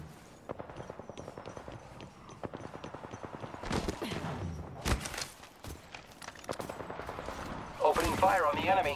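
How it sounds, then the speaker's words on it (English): Rapid automatic gunfire from the battle royale shooter Apex Legends during a ranked match, with steady bursts of shots across the whole stretch, some heavier impacts midway, and voices talking over the fighting. "Opening fire on the enemy."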